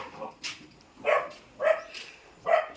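A dog barks four short times at a steady pace, at moderate distance and fairly quiet, with no talk over it.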